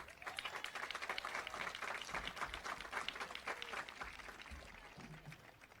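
Crowd applause at a high school commencement in Ellenville for the building and grounds crew: steady, dense clapping from a large audience that keeps a constant level for about six seconds and then begins to thin slightly near the end.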